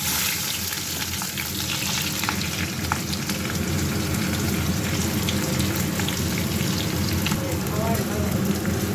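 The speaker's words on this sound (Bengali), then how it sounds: "এবার পেঁয়াজগুলো দিয়ে দেবো।" Onions sizzling in hot oil with whole garam masala spices and bay leaves for chicken rice, a loud, close, continuous crackle and spatter like rain on a surface.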